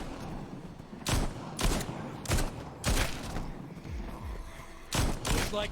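Pistol shots firing copper tip bullets in The Walking Dead: Onslaught video game, a string of about seven sharp, evenly spaced bangs over steady game background noise.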